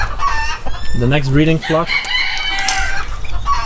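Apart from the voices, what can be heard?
black mottled Ancona bantam rooster crowing and clucking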